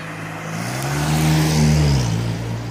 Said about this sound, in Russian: Сзади машина.